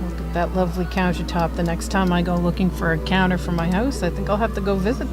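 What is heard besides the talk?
None of the usual background noises is heard.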